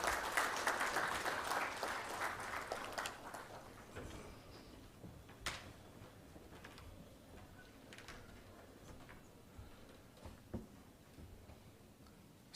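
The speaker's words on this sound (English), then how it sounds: "May I request the esteemed gathering to give a big round of applause." An audience at a Chintan Shivir gathering of state Youth Affairs and Sports ministers in a convention hall gives a round of applause that starts strong and fades over about four seconds, leaving faint scattered claps and room noise.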